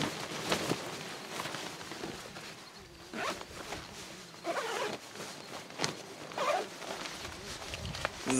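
Repeated zipper pulls on a JakPak, a jacket that converts into a tent, being zipped up up close, with brief rustling of the fabric between the zips.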